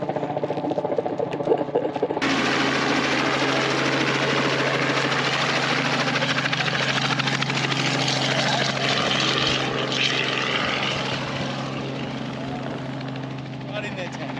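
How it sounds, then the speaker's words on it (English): A helicopter flies around overhead at outback camel races in Queensland. Its engine and rotors make a loud, continuous roar that stays steady and fades slightly toward the end, with people talking underneath. "The chopper flying around."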